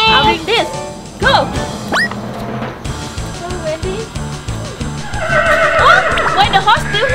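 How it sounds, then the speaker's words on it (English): A horse neighs and whinnies in a pretend-play farm scene, with several rising whinny calls standing out over busy background noise and children's voices talking nearby. "Why the horse still here?"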